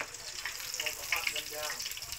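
Pork chops sizzle in vegetable oil in a cast iron pan, giving a close, steady crackling hiss with small popping spatters throughout, with no voices.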